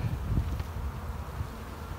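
Honey bees at a small hive give a faint, continuous buzz close to the open box, with low rustling mixed in.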